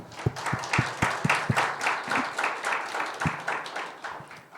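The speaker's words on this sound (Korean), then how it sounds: "예수님을 주신 하나님 아버지께 영광의 박수 한번 올려드립시다" A church congregation claps in a loose, uneven burst, with distinct individual claps standing out over a softer spread of applause at moderate volume.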